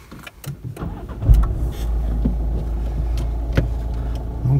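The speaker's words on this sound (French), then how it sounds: "Donc première, j'accélère, je démarre doucement." A car in first gear accelerates gently and pulls away after a precision braking exercise. A soft thump is followed by a steady, close engine drone that holds level, with a few faint clicks over it.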